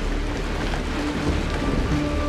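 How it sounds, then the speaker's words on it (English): Steady falling rain in the video game Honkai: Star Rail, a continuous dense patter held at even loudness throughout, with a faint low rumble underneath and no voices. "Mommy! The rain! It's raining!"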